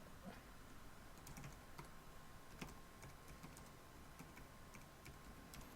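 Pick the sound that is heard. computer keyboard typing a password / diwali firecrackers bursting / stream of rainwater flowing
computer keyboard typing a password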